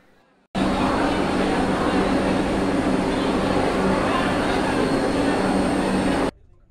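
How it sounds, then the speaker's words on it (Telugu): An orange-and-saffron Vande Bharat Express at platform 1 of Vijayawada Junction gives a loud, steady, close roar that runs unbroken for about six seconds, then cuts off abruptly. "మన ట్రైన్ అయితే విజయవాడ జంక్షన్కు రీచ్ అయిపోయింది. ప్లాట్ఫామ్ నెంబర్ 1 పైనకి వచ్చింది."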